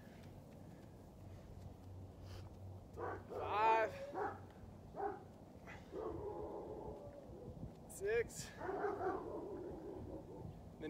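A neighbor's dogs bark and yip in a few scattered bursts at moderate distance, with a short whimpering cry, while a person counts aloud nearby.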